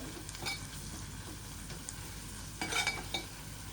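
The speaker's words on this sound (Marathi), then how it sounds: "आता हे चांगलं मिक्स करून घेऊ आपण तेलावरती असं परतवायचं" Spices and garam masala sizzle in hot oil in a pan as they are stirred and sautéed, a soft steady frying hiss with a few clinks of a spoon against the pan, no talking.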